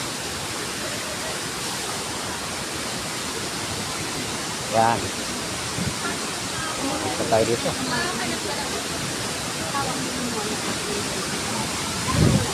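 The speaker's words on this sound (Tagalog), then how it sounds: "Yun, nakikita na namin yung Aliw Falls. Yan. Ang lakas ng tubig." A loud, steady roar of rushing water from Aliw Falls, a powerful waterfall, fills the scene, with a voice briefly speaking over it.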